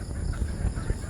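Chickens being fed outdoors in a netted pen, with a low, continuous mix of clucking and fowl calls throughout and a few slightly louder soft bursts standing out above the steady flock murmur.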